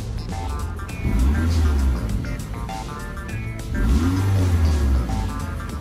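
A 2019 Toyota RAV4 engine given gas while parked, two rising revs that swell and fall back to idle, heard from inside the car, loud and steady, with a voice talking over it.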